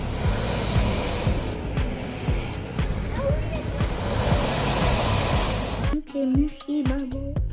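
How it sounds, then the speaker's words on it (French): A steady, hissing whir like a hair dryer runs continuously, then cuts out abruptly near the end, leaving a few faint tones. "on dirait un sèche-cheveux allumé"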